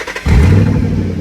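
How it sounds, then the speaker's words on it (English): A 2007 Saleen Mustang S281 with a supercharged engine cranks and catches, bursting into a loud, deep, throaty exhaust rumble that holds steady, close by. "Now hear that loud throaty exhaust?"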